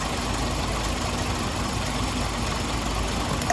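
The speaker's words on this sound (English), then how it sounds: "We still got a misfire on this one." Car engine idling with a misfire caused by a bad spark plug, a steady close-up rumble with a faint uneven roughness running through it, heard alone without talk.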